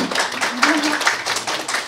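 Audience clapping during a Korean academic panel discussion, a short burst of hands clapping with a voice speaking over it, close and fairly loud.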